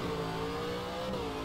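A Ford V8 Supercar from the 2014 series, driven in the rFactor 2 racing game, holds a steady, loud engine drone under load, with no speech over it.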